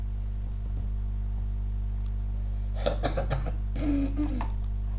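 A few short coughs in a quick burst, close to the mic, over a steady electrical hum.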